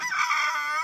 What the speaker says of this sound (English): And the rooster over there.